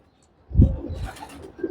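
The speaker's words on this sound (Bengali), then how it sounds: "এই খাঁচার মধ্যে যে কবুতরগুলো আছে" Pigeons kept in cages at a home loft give a short, deep throaty coo, close and clear against a quiet background.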